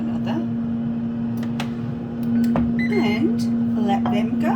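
An air fryer cooking chips hums steadily with a constant electrical drone, near and moderately loud, while a voice talks over it and faint clinks sound in the background.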